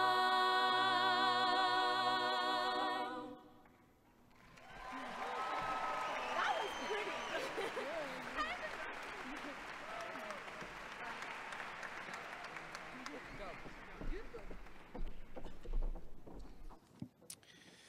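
An audience breaks into sustained applause after a vocal ensemble finishes singing; the last seconds of the choral music fade out before many hands clap steadily and fairly loudly for over ten seconds, thinning out at the end.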